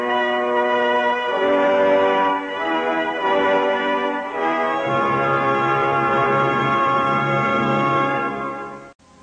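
Church bells peal at Westminster Abbey in London to welcome the Queen at the 1953 coronation. Layered, resonant strikes overlap continuously at a distance, ringing for about nine seconds before cutting off.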